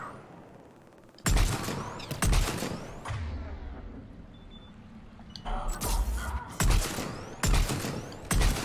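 Gunfire in the Mass Effect video game, several loud bursts of rapid shots in a firefight, separated by quieter mechanical rumbling, with brief gaps between volleys.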